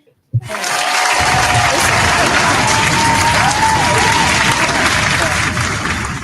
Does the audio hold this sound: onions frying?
no